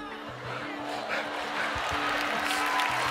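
Audience clapping and cheering after an iPhone magic trick, a rising wash of applause over a low steady hum, lasting a few seconds with scattered voices mixed in.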